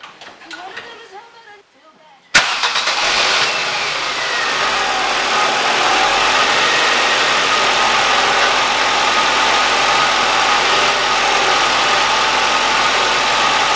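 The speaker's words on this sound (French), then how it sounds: "du premier coup, le moteur est reparti" A Ford Zetec 1.25 16v car engine, freshly rebuilt, catches abruptly after a quieter stretch and settles into a loud, steady idle right next to the listener, with a voice audible at moments.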